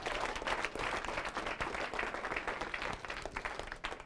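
An audience at a real estate training session gives a steady round of applause, a dense wash of many hands clapping at a moderate distance, with no talking over it.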